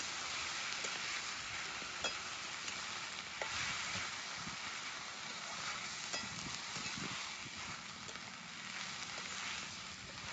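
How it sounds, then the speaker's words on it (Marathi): Sprouted horse gram roasting in a pan gives a steady dry sizzle and crackle, broken by occasional stirring scrapes, loud and close with no voices. "हुलग चांगलं परतून घेणार आहे आता मी."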